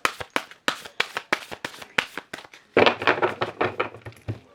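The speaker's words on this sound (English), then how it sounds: "Just mixing the cards up here. 2 shuffles." A deck of angel cards is shuffled by hand, first a quick run of rhythmic slaps and taps, then a denser rustling riffle, close and fairly loud.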